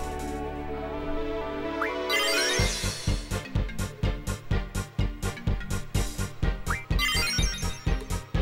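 Mobile phone ringtone going off during a Final Fantasy VIII play session, a loud repeating melodic ring pulsing in a steady rhythm for several seconds and swelling over the game's music.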